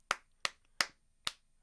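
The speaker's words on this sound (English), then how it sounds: "This is how you clap." A comedian on stage demonstrates how an audience claps for comedians when they walk on: four sharp, evenly spaced single claps, close and crisp, with silence between them.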